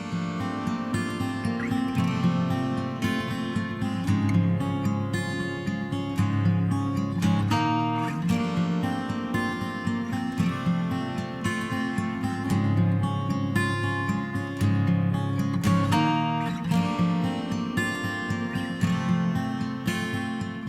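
Full band music plays through a hall reverb from the Relab LX480, with a spacious, lingering reverb tail that thickens the sound and smears the notes together, with no talking.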